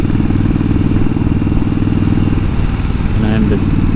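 Steady loud rumble of a cafe-style twin-cylinder motorcycle being ridden, a continuous close engine drone with wind noise throughout.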